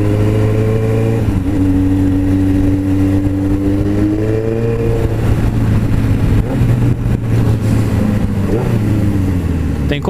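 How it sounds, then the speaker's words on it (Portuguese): A Suzuki GSX750F motorcycle with a slipping clutch revs loud and high, its engine drone holding steady while the pitch rises and dips for the whole stretch. "Fazer top speed na hora que ela chegar aqui em 210, 220, ela vai passar disco. Aí a moto só vai gritar em vez de acelerar."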